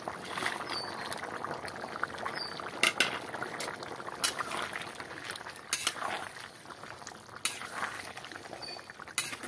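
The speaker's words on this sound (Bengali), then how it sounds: "ঝোলটা ফুটে উঠেছে" Curry gravy for a Bengali jackfruit and paneer dish bubbling in a covered wok, a steady soft simmer with scattered sharp clinks of utensils against the pan, close and fairly quiet.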